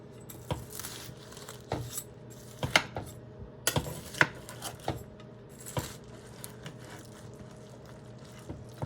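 Utensils clink and scrape against dishes as baked tacos are served onto a plate, with scattered, irregular taps and metallic rattles at a quiet level.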